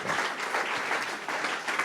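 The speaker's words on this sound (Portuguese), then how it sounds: "Damos um aplauso para Jesus." A church congregation applauds briefly during a service, a steady, close crowd of clapping hands throughout the short moment.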